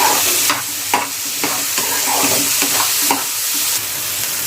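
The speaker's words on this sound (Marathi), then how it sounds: "चला मग टॅमॅटोला पण आता चांगलं आपण फ्राय करून घेऊया" Tomato, onion and dal frying in hot oil in a pan, stirred with a spoon: a steady close sizzle broken by several regular scraping stirs, with no talking.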